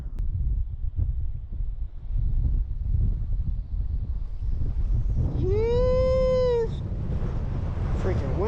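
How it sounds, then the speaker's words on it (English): Strong wind buffets the microphone with a constant low roar and gusty rumble while out kayak fishing on open water, and a high whining animal-like squeal rises briefly partway through. "windy, man."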